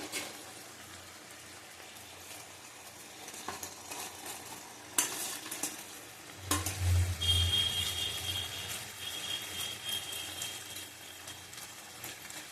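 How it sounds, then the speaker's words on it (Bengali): Fish going into a pan of boiling curry: a soft bubbling simmer with scattered sizzling crackles and a couple of splashy clatters as pieces drop in, quiet and close, with no talk. "ফুটে গেছে, মাছগুলি দিয়ে দেবো।"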